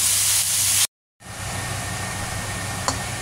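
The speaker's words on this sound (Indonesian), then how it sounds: "kita goreng sampai mengering" Food fries in a pan in a home kitchen, cooked until it dries out as its own water cooks off. A loud, steady broadband hiss and sizzle drops out briefly, then resumes.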